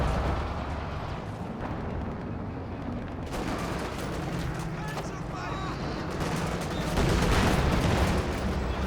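A dense, continuous barrage of rocket artillery fire and explosions from Katyusha launchers in a Company of Heroes 2 match, loud and sustained throughout, with booming impacts layered over one another.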